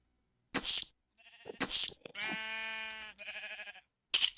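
Several synthetic Minecraft sheep bleats, each a short wavering cry, alternating with sharp clicky bursts, all clear and close with pauses between, in a modded game with vampire features.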